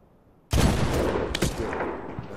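A single loud sniper rifle shot in the video game Medal of Honor fires abruptly, followed by a long rolling echo and a second smaller crack, heard alone with no talk.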